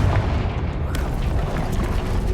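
Confringo fire-blast spell exploding in Hogwarts Legacy, a loud rumbling boom with crackling bursts that rolls on for a couple of seconds without fading.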